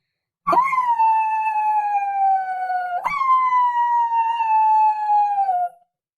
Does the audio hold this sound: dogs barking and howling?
yes